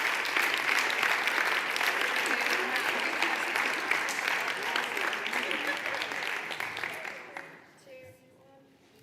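Sustained applause from a large conference audience at the eTwinning annual conference, a thick, even roar of clapping that holds for several seconds, then fades out near the end, leaving a few faint sounds.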